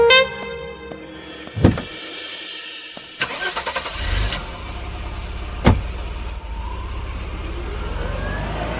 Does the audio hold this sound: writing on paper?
no